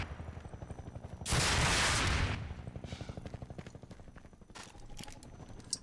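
A Combine gunship opening fire in Half-Life 2, heard as a loud harsh blast of roughly a second amid a steady mechanical rumble, followed by a fainter rhythmic chugging and distant crackling.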